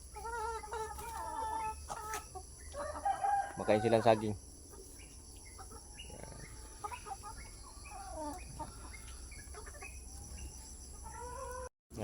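Native chickens of a plucker cross to aseel bloodline, in a range yard, eating bananas: clucking and crowing close by, with a sharp burst of calls in the middle. Someone talks over the birds, and crickets chirp faintly behind.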